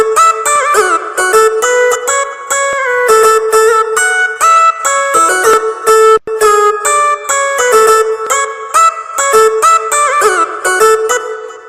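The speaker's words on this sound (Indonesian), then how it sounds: "Terus bagian lead yang ke berikutnya itu saya buatnya seperti ini teman-teman" A synth lead in a steel-guitar style carries a music project's melody, playing bright, rapid notes with steady rhythmic chords for about twelve seconds, loud and without any voice.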